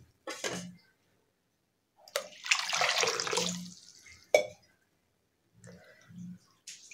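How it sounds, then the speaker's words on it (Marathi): Water splashes and swishes in short bursts as flattened rice (poha) is rinsed by hand in a bowl, close and moderately loud, with gaps of silence between pours. "पोहे स्वच्छ धुवून घ्यायचे।"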